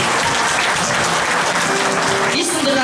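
Church congregation clapping loudly and continuously for the Lord, a dense crowd applause close by, with a voice speaking over it partway through.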